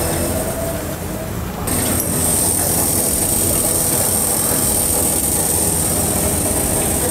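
A loud, steady machine roar with a constant high-pitched hiss of blowing air as a DL-700XD lubricating-oil cleaning machine runs its air-blow cycle, starting up partway through and holding at full strength.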